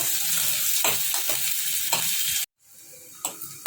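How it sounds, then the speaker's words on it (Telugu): Onions fry in leftover hot oil in a pan, a steady broadband sizzle broken by a few stirring scrapes, with a brief quiet pause before the sizzling picks up again, close and fairly loud. "అవి వేయించుకున్న ఆయిలే ఉంది కదా, అందులోనే వేసుకోవాలి ఉల్లిగడ్డలు."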